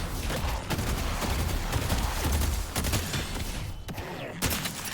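Rapid gunfire from shooting jungle minion camps in the video game Deadlock, dense and continuous bursts with sharp cracks layered over game effects, loud and close for the whole stretch.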